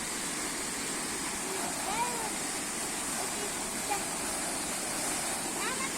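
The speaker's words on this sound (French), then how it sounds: "une petite cascade là." A small waterfall pours with a steady broadband rush that fills the whole clip, while people talk faintly under the constant roar.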